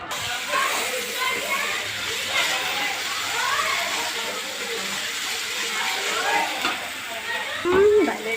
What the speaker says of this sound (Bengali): এবার মশলাটা কষানো হচ্ছে।